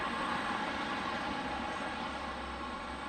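A jet airliner gets underway at Detroit Metro Wayne airport, its engines giving a steady, broad, distant roar and rumble that holds evenly throughout with no voices.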